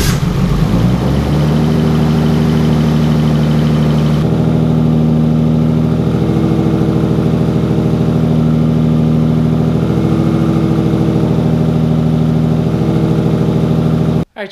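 Rebuilt Nissan Skyline engine cranking and firing up, then settling into a steady, loud, close idle with a constant low drone, no voices.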